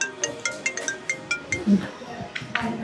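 A phone ringtone plays a repeating melodic pattern of short, evenly spaced tones, with a faint background voice.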